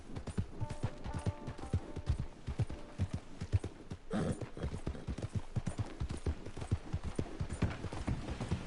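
A horse's hooves clip-clop in a steady walking rhythm in the video game Red Dead Online, close and moderately loud, with a brief whinny early on and no talk over it.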